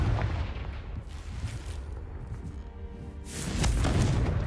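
Confringo fire spell detonating in the Hogwarts Legacy video game, giving a loud booming blast that swells near the end over rumbling low noise, with no talking.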